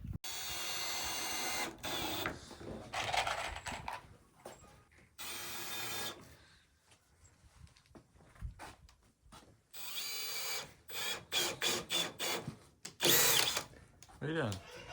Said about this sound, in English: Okay, you get to put the screws in for me. Okay, don't overdrive it.